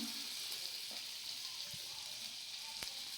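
Finely chopped garlic sizzles in a pan of oil and butter, a steady close hiss of frying with a few faint clicks and pops scattered through it.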